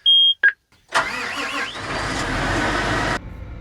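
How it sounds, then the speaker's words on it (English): Farm tractor engine cranking and catching after two short electronic beeps, then settling into a loud, steady run close by. "So let's get the tractor started up."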